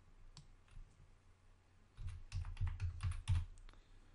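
A computer keyboard is used to type a quantity, heard as a few sparse clicks and then a quick run of close, distinct keystrokes over a quiet background.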